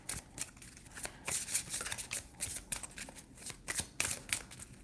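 Tarot cards shuffled by hand in a steady run of crisp, riffling flutters and soft slaps, close and fairly loud, with no talking over it.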